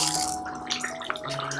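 A pot of elephant foot yam and prawn curry simmering down to reduce its liquid, with steady bubbling and small pops and sputters close by, and no talking.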